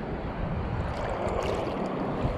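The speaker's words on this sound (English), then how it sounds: "Waves are getting pretty deep," Waist-deep ocean surf at Hunting Island State Park in Beaufort, South Carolina, gives a continuous broadband wash of breaking waves, moderately loud and close, with some wind buffeting and no voices.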